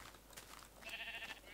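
A sheep bleats in a blocky sandbox video game, a single wavering, fairly close call rising out of low background hum in the second half.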